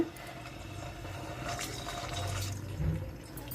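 Eggs frying in oil in a wok-style pan for a Telugu egg masala curry, a soft, steady sizzle with watery crackle that swells slightly midway, fairly faint and close.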